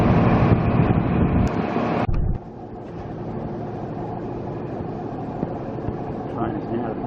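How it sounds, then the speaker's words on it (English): A train departing Albury station, loud rumbling interior and wheel noise for about two seconds, then dropping to a quieter steady rolling hum with faint clicks, with a voice talking over it. "Train is now departing from Melbourne from Albury."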